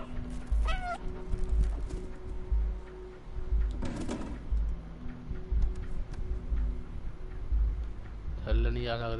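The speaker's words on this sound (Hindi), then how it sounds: "म्याऊं म्याऊं ही करते रहो।" Cat meows inside the video game Stray, several short mewing calls amid game sounds, with a person talking over much of the clip.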